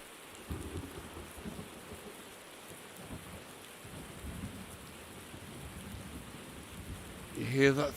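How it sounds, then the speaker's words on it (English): Thunderstorm over the Nordschleife in Automobilista 2, low thunder rumbles rolling under steady rain, fairly quiet, with a louder burst near the end. "you hear that thunder,"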